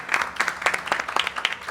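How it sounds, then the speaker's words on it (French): Brief burst of audience clapping at a talk event, a dense patter of hands lasting under two seconds. "Ça s'applaudit s'il vous plaît."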